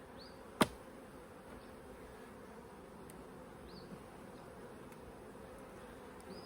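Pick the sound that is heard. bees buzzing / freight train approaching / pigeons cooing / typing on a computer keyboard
bees buzzing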